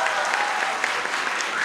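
An audience applauds at a March 2017 concert, dense rapid clapping from a large crowd filling the hall steadily, with voices mixed faintly underneath.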